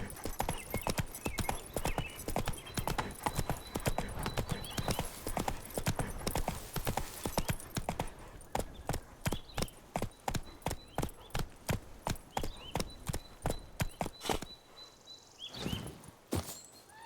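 Roach the horse trots on hooves in the Witcher 3 video game, a fast, dense clip-clop that slows into evenly spaced, distinct hoof strikes, with a brief whinny near the end.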